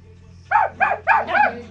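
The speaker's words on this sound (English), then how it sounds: "this dog is going crazy" A dog barks four times in quick succession, loud and close, each bark short and sharp against a low steady hum.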